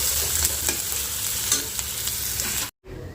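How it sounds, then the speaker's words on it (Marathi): Onion and green chili frying in hot oil with mustard seeds, a loud continuous sizzle with occasional stirring scrapes, close by, then a sudden brief cut to near silence at the end. "कांदा हिरवी मिरची आता थोडीशी ना गुलाबी होईपर्यंत चांगली तेलात परतून घेते"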